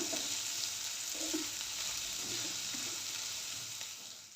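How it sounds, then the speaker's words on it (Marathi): Chopped onion fries on a high flame in a pan for a potato bhaji until golden brown, giving a steady, close, even sizzle that fills the whole stretch with no talk. "कांद्याला गोल्डन ब्राऊन कलर येईपर्यंत मस्त परतून घ्यायचं आहे आपल्याला हाय फ्लेमवरच परतायचं आहे"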